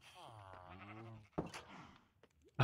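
Sheep bleating in Minecraft VR, a drawn-out wavering bleat followed by a few short thuds and clicks, close and clear with no talk over it.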